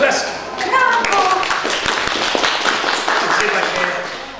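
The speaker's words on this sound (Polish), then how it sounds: "Lecz nagle słychać gromkie oklaski" Audience at a literary-poetry club stage performance clapping loudly and continuously, with a few voices and children's calls mixed into the applause.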